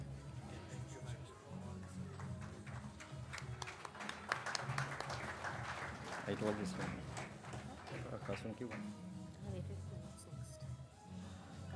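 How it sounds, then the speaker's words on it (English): Applause from a crowd at a corporate employee anniversary event rises and falls beneath someone talking and a low droning background, the clapping swelling in the middle before easing off. "The applause is getting better and better like wine."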